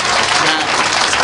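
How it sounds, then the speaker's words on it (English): Audience applause at the 2010 Maryland gubernatorial debate between O'Malley and Ehrlich, a loud, dense burst of clapping lasting about a second, with a voice faintly underneath. "Can you please hold the applause until the end?"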